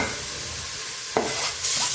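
Garlic and ginger frying in a pan for beef pilau, a close, steady sizzle broken by a couple of sharp stirring scrapes and a louder burst of hissing near the end.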